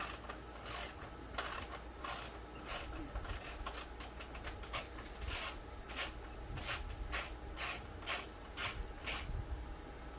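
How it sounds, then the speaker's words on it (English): A ratchet clicks in quick bursts while removing bolts from the rear brake of a Can-Am Ryker, a faint, close metallic ticking repeated in short runs with soft rubbing and handling noises between strokes. "First thing we're going to do is remove these 2 bolts."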